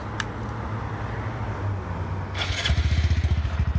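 A Honda Grom motorcycle fitted with a shorty exhaust cranks over amid background noise, then catches and settles into a loud, close, rapid pulsing idle.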